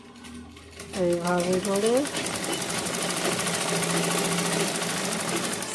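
A sewing machine stitches lining onto fabric, its rapid steady needle chatter starting after a second and running continuously to the end. Someone speaks briefly over the start of the stitching.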